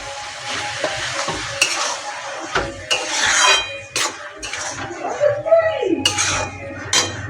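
A spoon scrapes and stirs banana flower dal in a pan over sizzling heat, with irregular metallic clinks and scrapes against the cookware, some strokes sharp and close, others softer, over a low frying hiss.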